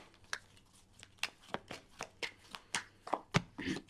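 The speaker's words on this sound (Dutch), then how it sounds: "Dus aan de kaarten schudden om te kijken wat deze week voor jou gaat brengen." Tarot cards shuffled by hand in a quiet room, giving a series of short, crisp riffling flicks in an uneven rhythm, close and soft, with no talk.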